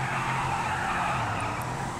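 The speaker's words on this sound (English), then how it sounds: "Now it's time for a burnout." Tyres squeal and an engine roars steadily as the Baller SUV, a Range Rover–style vehicle in GTA V, does a burnout. The noise stays loud and constant from start to finish, with no talking.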